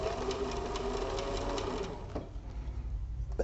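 A sewing machine stitches the seam where the top and bottom gussets of a crossbody bag meet. It whirs steadily and loudly at close range, then slows and thins out toward the end, with no talking.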